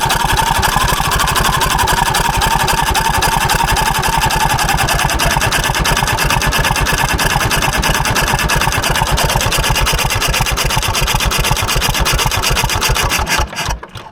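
An Ursus tractor engine idles steadily and loudly close by, a continuous even chugging throb that runs unbroken for most of the stretch before dropping away briefly at the end, with no speech over it.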